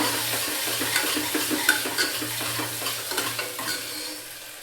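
Onion, green chilli and ginger garlic paste sizzle steadily in hot oil in a pan while a spoon stirs them in repeated scraping strokes, close and continuous.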